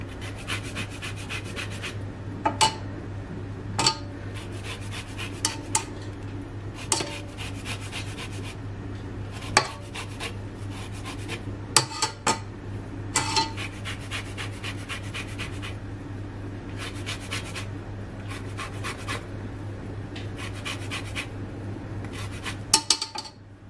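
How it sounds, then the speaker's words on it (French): Lemon zest being scraped off lemons with a metal grater, repeated rasping strokes in short irregular bursts with small clicks of metal, close and quiet over a low steady hum, no speech. "j'ai pris une râpe et je vais prendre le zeste de mes citrons"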